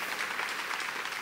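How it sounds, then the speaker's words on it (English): An audience at the ECCF Arts & Culture Summit applauds for the National Endowment for the Arts, producing a steady wash of clapping that holds at an even level for the whole brief moment, with no talk over it. "round of applause for the National Endowment for the Arts"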